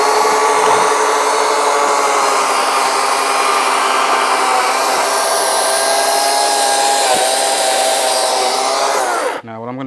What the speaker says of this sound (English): I'm basically just gonna work my chainsaw to a third here